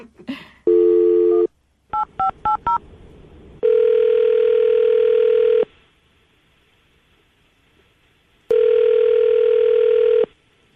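A landline call being placed: a brief tone, a quick run of DTMF keypad beeps, then long steady ringback tones separated by silence, loud and clear with no speech.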